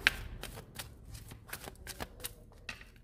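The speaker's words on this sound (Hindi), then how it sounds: "हम एनर्जी ऑरिकल कार्ड से देखेंगे लेट्स सी के क्या कार्ड निकल कर आता है" Energy oracle cards are shuffled by hand, a rapid series of close, crisp riffling flicks and slaps in an uneven rhythm with no talking.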